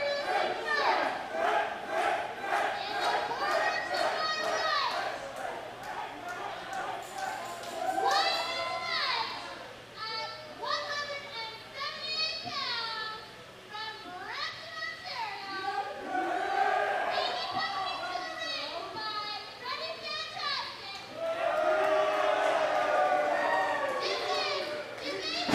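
A wrestling crowd cheering for Lionel Knight at a SPRY Wrestling show, loud continuous shouts and yells from many voices that swell and dip throughout, with children's voices mixed in.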